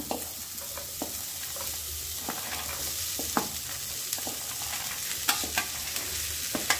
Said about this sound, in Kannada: ಈಗ ಕುದಿಸಿ ಇಟ್ಕೊಂಡು ಕಾಳು ಮಾಡ್ಕೊಂಡು ಇಟ್ಕೊಂಡಿರುವಂತ ಸ್ವೀಟ್ ಕಾರ್ನ್ ಹಾಕ್ತೀನಿ ನೋಡ್ರಿ